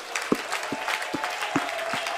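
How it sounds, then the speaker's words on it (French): A church congregation claps at a worship service in a faint, steady rhythmic beat, sharp hand claps landing at even intervals over a soft background hum. "Donnons une acclamation au Seigneur."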